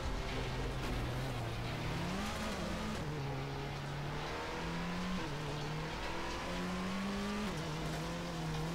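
An ELC AMX light tank engine in World of Tanks revs and accelerates, a continuous droning motor whose pitch climbs and steps through gear changes, loud and close.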